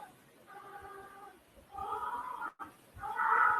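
A cat meows several times, drawn-out and tonal, fairly close against a quiet background.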